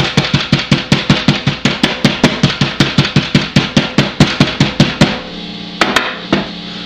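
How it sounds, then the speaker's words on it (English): A meat tenderizer pounds pork tenderloin flat in a steady, fast series of sharp thuds, about five per second and loud and close, then pauses before a few final, more spaced blows. "we're going to take a tenderizer. Flatten them out a little bit"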